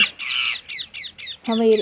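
Birds chirping in a quick series of bright, separate chirps, followed by a louder, harsher squawk at the end. The calls are close and clear.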